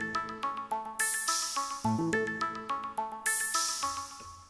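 Roland JD-Xi synthesizer pattern with bright cymbal hits from the noise kit over a repeating plucked melodic sequence, close and clean with no talk.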